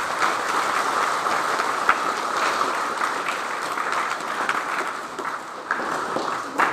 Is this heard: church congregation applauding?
yes